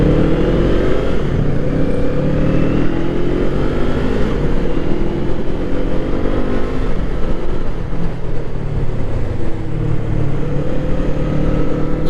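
A Kawasaki Eliminator motorcycle being ridden, engine droning loud and steady with rising pulls as it accelerates through the gears, blended with wind rush from close up on the bike.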